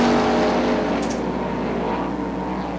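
Sprint cars race on the dirt oval at Ionia Raceway Park in 2004, their engines a loud, continuous roar that barely drops across the moment.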